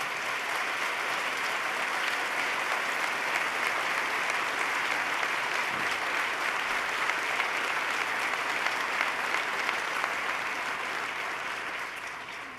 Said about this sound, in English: Let's give Ben Lieberman a round of applause.